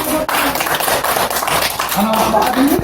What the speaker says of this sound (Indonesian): Oke, tepuk tangan boleh.